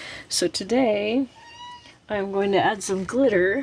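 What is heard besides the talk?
pet cat playing with a toy mouse, meowing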